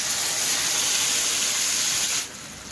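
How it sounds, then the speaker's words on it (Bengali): Mustard and tomato paste dropped into hot oil for an eggplant dish gives a loud, steady sizzling hiss that drops off sharply near the end. "যে সর্ষে আর টমেটোর পেস্টটা তৈরি করেছিলাম সেটাও ওই তেলের মধ্যেই দিয়ে দিলাম"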